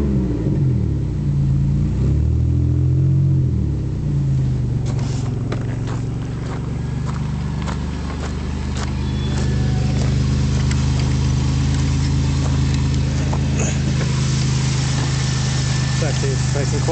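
A 1999 Buick LeSabre Custom sedan with a slightly failing exhaust idles close by in a steady, rumbling drone, its revs wavering early on before settling into an even, continuous run.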